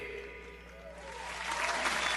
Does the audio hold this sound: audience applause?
yes